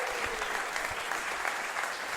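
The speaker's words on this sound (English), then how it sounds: "Let's have a big round of applause for them." Theatre audience applause at a live comedy podcast recording at the Giant Dwarf Theatre, a dense, even wash of many hands clapping throughout, with no voices.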